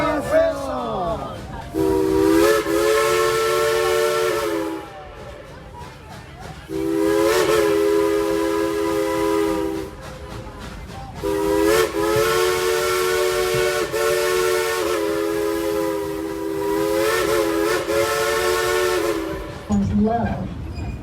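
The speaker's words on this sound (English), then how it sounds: "Blow the whistle." A loud steam train whistle at Dollywood blows in three long, sustained blasts separated by short pauses, with a brief fourth toot at the end.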